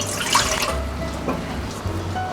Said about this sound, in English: Water up in the pot.